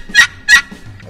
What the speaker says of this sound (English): This call produces realistic hen yelps